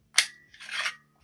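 Two quick dry-fire clicks from an unloaded Desert Eagle .50 AE pistol, sharp and close with a short gap between them, in an otherwise quiet room.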